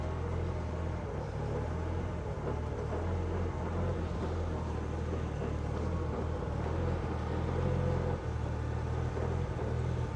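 A rusty old Austin car, just put into gear, drives off with a steady low engine rumble that holds evenly throughout and stays close.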